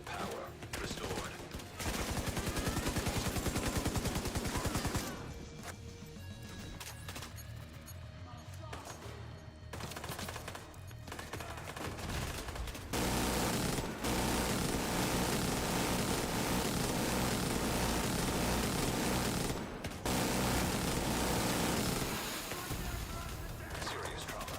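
A minigun roars in The Division 2, long sustained bursts of rapid fire that are loud and close, broken by a few short pauses, with a voice talking over parts of it.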